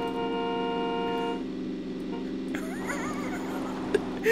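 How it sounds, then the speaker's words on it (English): A car horn in the game PUBG holds a loud, sustained tone for over a second and then cuts off. Quieter game noises and a short sharp hit follow. "Oh shit, somebody else is honking."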